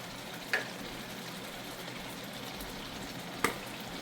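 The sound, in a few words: stew ingredients frying in pot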